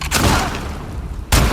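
Shotgun blasts in The Last of Us Part 2, played on PS4: a loud boom opens, heavy rumbling fills the middle, and a second close, punchy blast lands near the end.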